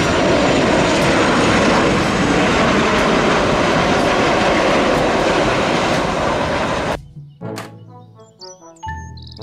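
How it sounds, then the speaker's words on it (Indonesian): A loud, steady roar of an airplane engine fills most of the clip, then cuts off abruptly, leaving a few short clicks and faint tones. "Pesawat terbang."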